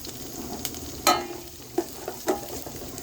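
Curry leaves are dropped into hot oil with softened onions for a radish sambar, giving a continuous low sizzle with a few sharp crackling pops and stirring scrapes, close and moderately loud.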